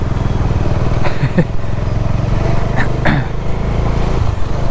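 A motorcycle engine revs and drones close by, with a couple of brief throttle rises as it moves past over steady traffic noise.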